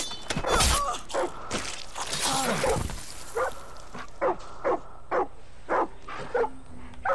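A dog in the Far Cry 6 video game barks and yips in a run of short, evenly spaced bursts after some louder clattering game noise at the start.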